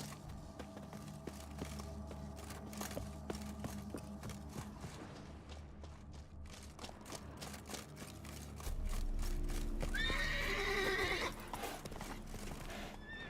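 Roach the horse in The Witcher 3 lets out a loud whinny partway through, while hooves clip-clop at a walking pace throughout, close and clear with no talking.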